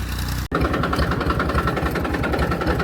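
After a brief cut, a tractor engine chugs close by while ploughing a field, with a steady, rhythmic low thumping and a rattling mechanical vibration.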